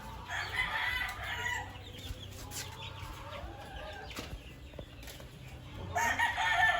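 Hens and roosters at a gamefarm clucking steadily with crowing calls rising through a busy, continuous barnyard clamor, some wing flapping, fairly close and loud throughout.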